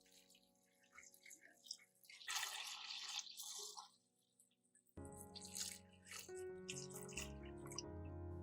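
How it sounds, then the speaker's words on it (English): Two liters of water splash and trickle into a cooking pot holding corn cobs and ginger in two bursts, the second fuller and deeper as the pot fills, close by. "Then add 2 liters of water."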